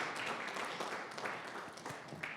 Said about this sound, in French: Can you clap for Jesus?